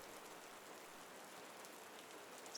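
Steady rain falls in a forest, a soft, even hiss of drops on leaves and ground, continuous and fairly quiet throughout with no voices.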